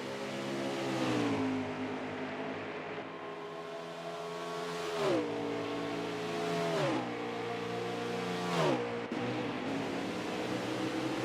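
Race cars in an Xfinity series racing video game at Canadian Tire, engines repeatedly climbing in pitch and dropping at each gear change, a continuous revving drone with several shifts.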